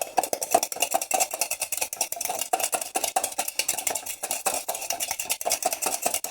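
A boiled egg is shaken hard in a covered cup to loosen its shell, producing a rapid, steady rattle of close hard knocks and clatters that keeps going, with no talking.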